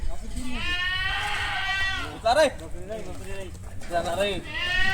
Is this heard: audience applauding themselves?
no